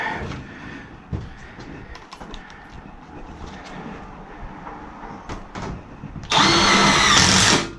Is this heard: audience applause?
no